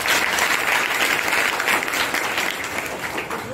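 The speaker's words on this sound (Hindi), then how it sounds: "आप नीचे की ताली बजाइए जोरदार अपने लिए।" Students in a school hall applaud loudly, with dense, sustained clapping from a large group filling the room for several seconds.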